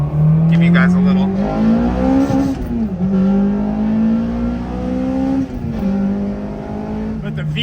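An Acura RSX Type-S VTEC engine fitted with a short ram cold air intake revs hard and climbs through the gears, its pitch rising and dropping at each shift, loud and close from inside the car.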